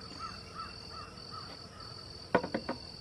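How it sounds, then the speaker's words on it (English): Crows in a Georgia, U.S.A. garden give a burst of four harsh caws near the end, fairly close, after a stretch of quiet outdoor ambience with a steady high insect drone and faint distant bird calls. "I thought of what that is. It's crows."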